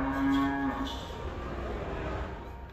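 A Dutch dairy cow at a livestock exhibition fair lets out a single loud, close moo at the start that fades into quiet background murmur.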